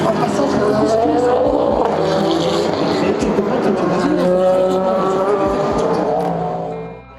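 Alpine and LMP2 prototype race cars at the 24 Hours of Le Mans roar past in a loud, continuous engine drone with rising and falling pitch, faint crowd noise underneath, fading at the end.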